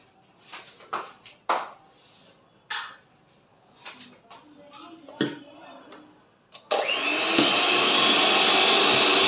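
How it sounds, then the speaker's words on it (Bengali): An electric blender mixing butter and milk powder for a chocolate sponge cake. Scattered knocks and clatter come first, with brief talk, then the motor starts, loud, close and steady, and runs to the end. "তো এটা দিয়ে আবার আমি এটা ব্লেন্ড করব।"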